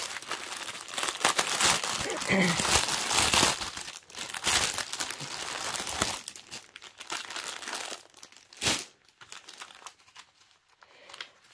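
Plastic packaging around a cross-stitch canvas being opened, with steady crinkling and rustling close by that thins out into a few sharper crackles and pauses toward the end.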